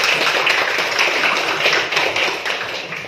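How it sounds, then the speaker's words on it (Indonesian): Students applaud together, producing a dense, continuous patter of many hands clapping that stays fairly loud and even, easing slightly toward the end. "Oke, tepuk tangan buat kalian semua."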